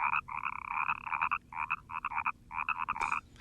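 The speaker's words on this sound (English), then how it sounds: "We have a pet scrotum frog." A pet Lake Titicaca scrotum frog croaking close by in quick bursts of rapid, buzzy trills separated by short pauses, loud and clear against a quiet background.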